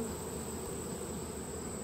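Honey bees buzz steadily at a beehive, a dense continuous hum from many insects close by, with no voices.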